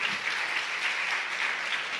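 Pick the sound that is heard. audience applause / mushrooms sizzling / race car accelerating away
audience applause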